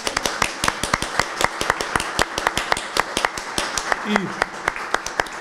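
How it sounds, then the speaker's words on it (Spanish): Applause at a book presentation, sparse and distinct claps from a small audience in a fairly rhythmic patter, close and clear, with a brief voice partway through. "Un aplauso para él."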